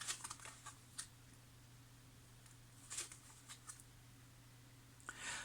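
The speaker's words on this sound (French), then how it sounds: "Je vais découvrir toutes les cartes." Tarot cards turned over one after another on a table, soft scattered taps and slides over a low steady hum, quiet and close.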